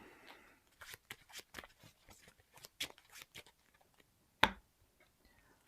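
Marvel Champions cards being shuffled by hand, a series of quiet crisp riffling snaps and taps in a close, otherwise quiet room.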